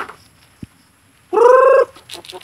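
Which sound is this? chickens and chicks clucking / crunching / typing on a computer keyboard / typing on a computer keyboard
chickens and chicks clucking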